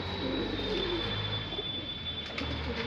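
Shahjahanpuri breed pigeons cooing nearby, soft low throaty coos repeating over a steady background hum with a faint high whine.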